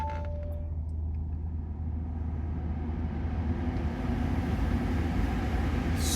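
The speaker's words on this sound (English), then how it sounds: "Straight into a nice smooth idle." A 3.0 TDI diesel Audi A6 Allroad quattro with 272 PS turns over and settles into a steady, smooth idle, heard as a continuous low engine drone from close by inside the car.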